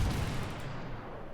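Naval gunfire in the World of Warships video game: a dense, booming burst of cannon fire with a rumbling low-end roll that fades slightly over a second and a half, loud and close with no talk.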